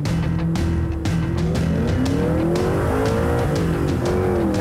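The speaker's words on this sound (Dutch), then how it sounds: "Ja, het geluid, heerlijk hè, die V8." A Spyker V8 sports car engine roars loudly and continuously close by, its pitch rising and sliding as the revs change, with tire squeal and skidding mixed into the steady drone.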